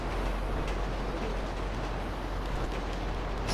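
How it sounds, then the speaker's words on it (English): A train in a video game rumbles steadily, with a constant low mechanical roar and faint rattling from the cars that continues without a break. "I'm doing that train game"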